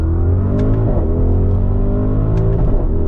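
A 2021 Audi RS Q8 accelerating, a loud, steady engine roar with rising harmonic tones heard from inside or close by, without talk.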